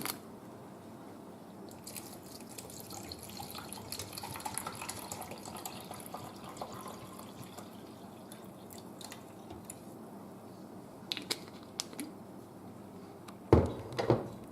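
A liquid mixture of garlic, ginger, lemon and apple cider vinegar splashes and trickles steadily into a pot, a continuous wet pouring noise with a few small clinks and knocks near the end.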